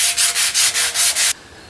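Brisk back-and-forth sanding of a Catalina 22 sailboat keel with 80 grit sandpaper, about six loud, close, even strokes that stop abruptly.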